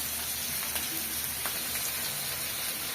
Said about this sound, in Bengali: মশলাটা কষাই নিই, আর মাছটা এইদিকে ভাজা হোক।